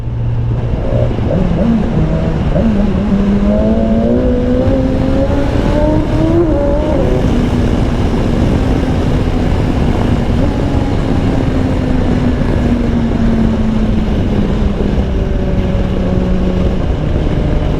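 A BMW S1000XR motorcycle engine revs up loudly and holds a steady high drone, pitch rising and then settling, close by with no talking.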